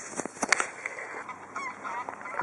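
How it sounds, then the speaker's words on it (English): Geese honk along a river, a few loud nearby calls in quick succession followed by scattered fainter honks over quiet water ambience. "Get them type of birds up there, geese or something."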